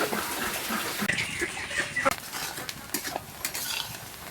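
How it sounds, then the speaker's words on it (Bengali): Onions browning in hot oil in a home kitchen, sizzling steadily while a utensil stirs and scrapes the pan in irregular strokes, close and fairly loud. "আমার পেঁয়াজটা লাল লাল করে ভাজা হয়ে গিয়েছে"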